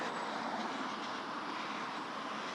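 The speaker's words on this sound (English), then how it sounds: "There's the train." A steady broadband rumble of a passing train in Jurong West, Singapore, rolling continuously at moderate distance with a faint high whine above it.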